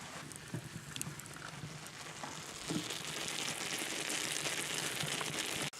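Butter boils hard in a pot while being cooked down into ghee, a steady bubbling hiss with soft patter and occasional pops that grows a little denser partway through, close and without talk.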